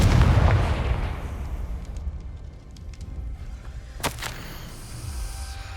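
Blasting-spell explosion in the Hogwarts Legacy video game: a loud, deep booming burst at the start decays into rumbling debris, followed later by a sharp crack and lingering low rumble, with no talk.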